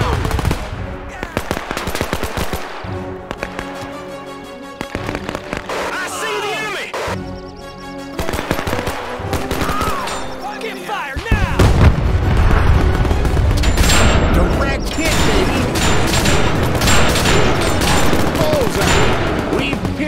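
Machine gun fire from the WWII strategy game Men of War II, dense rapid bursts and booms building into a loud, continuous battle din with soldiers' shouted voices mixed in.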